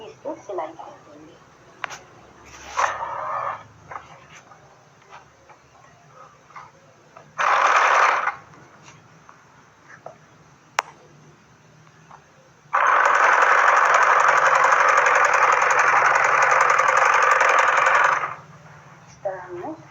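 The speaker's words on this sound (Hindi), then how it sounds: "इस तरह हम मशीन पे इसको रख के जैसे हमने पिन लगाई है वैसे इस पर सिलाई कर देंगे" An electric sewing machine stitching fabric for a salwar, starting in short bursts of a second or so and then running steadily for about five seconds, close and loud, amid handling clicks and rustles.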